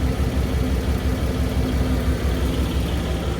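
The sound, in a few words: Porsche 911 GTS T-Hybrid engine and exhaust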